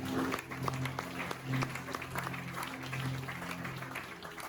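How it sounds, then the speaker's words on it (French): Audience applause at an entrepreneurs' master class, a steady patter of many clapping hands at moderate distance, fairly soft, with a low hum underneath and no clear talk. "On acclame très fort."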